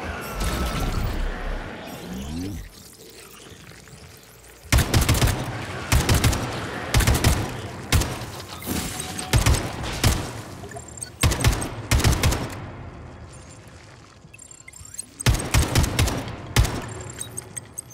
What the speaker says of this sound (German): Ein bisschen mit meinem Warlock durch die Gegend schießen